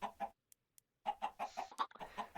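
Minecraft chickens on a game chicken farm give short, quiet clucks in two bursts separated by a near-silent gap, the second stretch busier with overlapping clucks.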